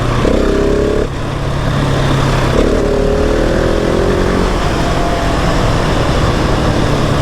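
Loud, close engine of a 2020 Husqvarna 701 SM motorcycle pulling hard in third gear, a steady rising drone with a brief dip near one second before climbing again, sustained throughout with no talk.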